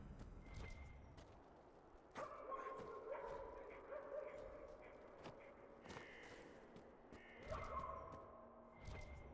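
Several dogs bark and yip in the Dragon Age: Inquisition video game, sharp repeated barks scattered over quiet background ambience, some nearer and some farther off, with no talking over them.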